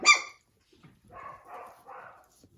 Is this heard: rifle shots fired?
no